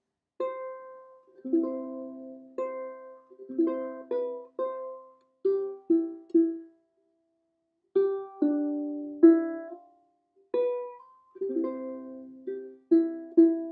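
A ukulele plucks a simple melody alone, notes and small chords ringing clearly with short pauses between phrases.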